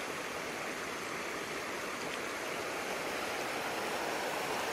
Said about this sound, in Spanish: este río junto a una finca bien bonito